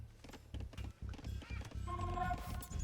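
Scout cavalry horse from the Age of Empires strategy game, with a quick run of hoof clip-clops, a neigh near the end and game sounds around it.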